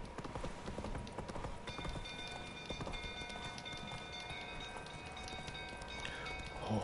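Roach, the horse in The Witcher 3 game, trotting with a steady quick clip-clop of hooves, fairly close and continuous, with no talk.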